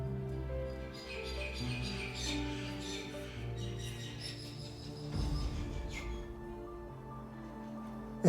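Birds chirping outdoors near Mount Eden prison, scattered faint high tweets over a steady low hum and murmuring background, distant and soft.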